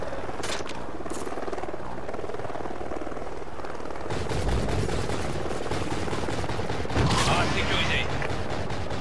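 In Call of Duty: Ghosts, helicopter rotor thrum runs throughout while bursts of rapid gunfire break out, heavier in the second half, with occasional voices in the mix.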